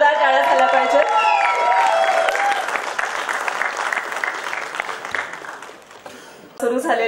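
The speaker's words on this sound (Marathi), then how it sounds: "जोरदार टाळ्या झाल्या पाहिजेत" Audience applause fills the hall at the teaser launch of the Marathi film ILU ILU: sustained, dense clapping and cheering that swells, holds, then tapers, with voices and music heard briefly at the start and end.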